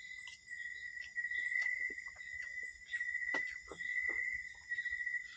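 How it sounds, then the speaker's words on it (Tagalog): Crickets chirping at a quiet campsite at night, a thin steady high trill with softer scattered calls around it against a near-silent background. "kuliglig lang yung maririnig mo."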